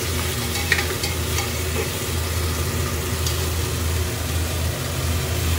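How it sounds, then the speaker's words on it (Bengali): Eggplant masala is stirred and fried in oil with a little water, giving a dense continuous sizzle close up with light occasional scrapes and a low steady hum beneath. "জল দিয়ে হালকা হালকা করে নাড়া দিয়ে নিচ্ছি, একটু কষিয়ে নেব তেল ছাড়া পর্যন্ত"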